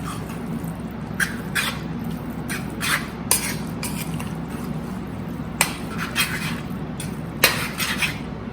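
Corn being stirred in a metal pot over a high flame, a spoon scraping and clinking against the sides in irregular strokes over a low steady burner hum.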